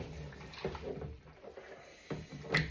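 A greasy, burnt-on baking tin being washed up in a sink of water, with soft sloshing and splashing, a few clinks and swishes, quiet and close, no talking.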